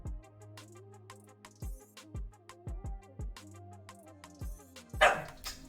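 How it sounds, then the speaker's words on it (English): Small dog barking nearby, a rapid series of sharp yips with short pauses, steady over a quiet hum, ending with a louder burst of noise. "He barks at everything right now."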